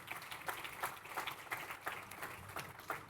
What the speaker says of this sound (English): If you want to give a round of applause